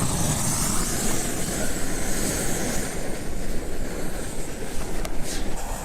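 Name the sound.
wind blowing outdoors in the desert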